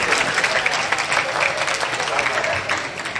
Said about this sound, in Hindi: भरपूर तालियां सरवर खान सरवर साहब के लिए